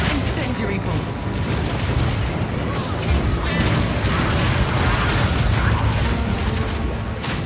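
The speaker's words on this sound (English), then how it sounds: "Armor-piercing bolts. Permafrost bolts. Incendiary bolts." Crossbow incendiary bolts fire and explode in Path of Exile 2 combat, a dense, continuous barrage of loud pops, crackling bursts and booming impacts with no breaks across the whole stretch.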